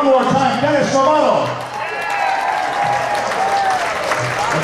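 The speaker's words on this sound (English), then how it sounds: "Nice round of applause." Audience applause at a Thanksgiving polka party in Cleveland, loud and close, mixed with crowd noise and a tonal, musical layer, with clapping fading slightly midway.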